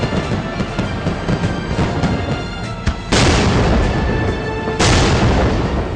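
Fireworks at the Thrissur Pooram festival go off as heavy, booming blasts, two sharp loud bursts landing a couple of seconds apart over a continuous rumbling crackle of earlier explosions.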